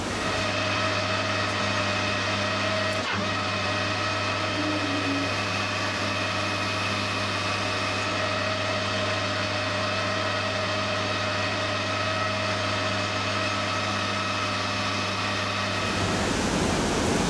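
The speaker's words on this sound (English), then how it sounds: "now we've got to bore out the back of this." A metal lathe or drill boring out the back of a part for a Titan .60 glow plug model engine, a steady mechanical hum with even tonal whine held throughout, ending with a brief shift near the close.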